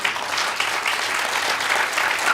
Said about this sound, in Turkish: Alkışlayalım Bahar peki